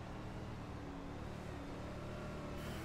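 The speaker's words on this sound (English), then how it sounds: "You can just listen to that throttle control that James Rice is showing at the moment." A 410 winged sprint car racing at Lanier on a dirt track, engine droning steadily and a bit distant as it accelerates on a restart, throttle held smoothly with no talk.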